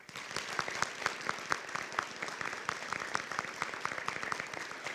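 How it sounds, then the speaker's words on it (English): Audience at a university State of the University address applauds with sustained, lively clapping from a large crowd, many individual claps audible in a dense, even patter throughout. "Please join me in giving them a big round of applause."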